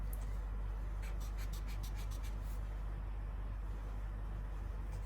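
An alcohol marker with a chisel nib strokes across paper in a quick run of about ten short, scratchy swipes, then falls quiet over a low background hum.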